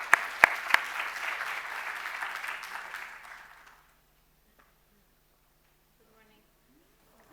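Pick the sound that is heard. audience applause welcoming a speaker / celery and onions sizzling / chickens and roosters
audience applause welcoming a speaker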